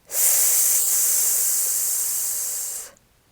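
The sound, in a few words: breathy hissing exhale, qigong lung sound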